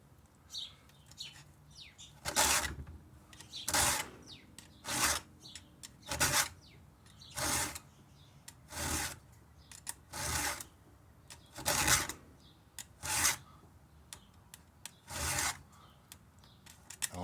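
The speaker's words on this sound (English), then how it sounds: "you can hear how much smoother the file goes through" A hand file rasps across a chainsaw chain's cutters in a steady series of about eleven strokes, each a short abrasive scrape with quiet gaps between, close, while birds chirp faintly in the background.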